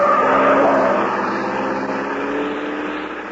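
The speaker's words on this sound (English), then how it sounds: "a car with Ralph Leonard at the wheel swerves crazily around the corner" A car swerves crazily around a corner in a radio drama, a loud, steady engine roar with a tire-like hiss that fades slightly as it passes, with no voices over it.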